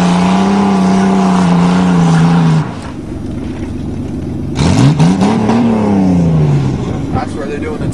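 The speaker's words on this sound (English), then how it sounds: "And he preheats his tires for extra traction." Pickup truck revving hard and spinning its tires to heat them before a farm tug of war, a loud, sustained engine roar that drops briefly then surges again, with voices talking over it.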